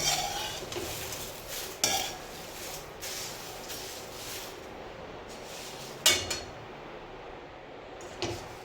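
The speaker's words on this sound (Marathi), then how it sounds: "यात मी तेल टाकलेलं नाही, कोरडाच भाजून घेते." Whole spices are dry-roasted in a pan with no oil, producing a faint, steady rustle and scraping of stirring, with a few louder clinks of utensil on pan.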